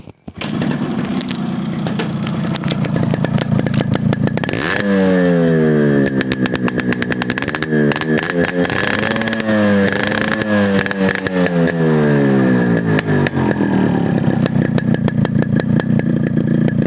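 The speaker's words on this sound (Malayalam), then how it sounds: "ക്ലീൻ ചെയ്തതിന് ശേഷമുള്ള എക്സോസ്റ്റ് നോട്ടും കാര്യങ്ങളൊക്കെ ഒന്ന് കേൾപ്പിച്ചു തരാട്ടാ" A Yamaha RX-135 two-stroke motorcycle with a freshly decarbonised silencer idles up close with a loud, crackling exhaust note and then revs repeatedly, its pitch rising and falling, heard alone without any talk.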